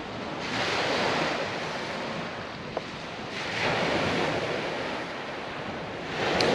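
Ocean surf breaking on a beach, a steady broad wash with swells rising and falling every few seconds, mixed with wind buffeting the microphone and no voices.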